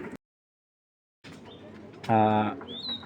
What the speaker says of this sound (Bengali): এটা এত সুন্দর একটা কবুতর দেখুন